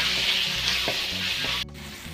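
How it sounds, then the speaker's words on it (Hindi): Ground spices (coriander powder, garam masala) frying in hot oil for dhuska, a dense close sizzle with a couple of stirring scrapes before it drops slightly quieter. "थोड़ा देर इसे भून लेंगे फिर मसाले को।"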